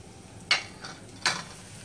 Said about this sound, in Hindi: और अब जो ये छाछ और बेसन का घोल है उसके अंदर हम लोग डालेंगे थोड़ा सा हल्दी और इसको मिलाकर